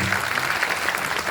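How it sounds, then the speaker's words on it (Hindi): A crowd at a Hindi poetry recital applauds, many hands clapping in a steady, fairly loud burst that fills the hall, with faint voices beneath. "तालियां बजा लीजिए अगर आप लोग उससे प्रेम करते"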